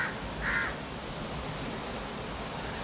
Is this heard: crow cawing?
yes